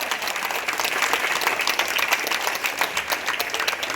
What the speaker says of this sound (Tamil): அவர்களுக்கு நம்முடைய நிர்வாகிகள் சார்பா ஒரு நல்ல ஒரு கைத்தட்டலை தெரிஞ்சுக்கலாமா